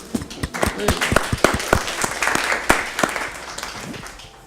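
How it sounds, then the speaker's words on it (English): Audience applause for panelists at a final event in a Brussels venue, sharp separate claps building into a moderate ragged patter that fades toward the end. "a round of applause for our panelists"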